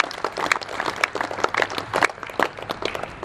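Audience applause for both teams at the 2015-16 Kookaburra Cup presentation, a steady spread of many hands clapping at moderate volume with no voices over it.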